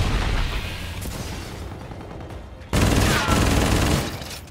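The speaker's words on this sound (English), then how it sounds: "Good shooting, Tex." Gunfire in Call of Duty: Infinite Warfare multiplayer, a dense crackling fusillade of rapid shots that swells louder partway through and stays steady and close, with no talk over it.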